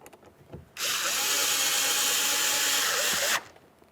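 A power drill drives a large Phillips head mounting screw near the grab handle while fitting a front power window motor and regulator on a 2012-2015 Honda, one steady, loud, close whir of about two and a half seconds.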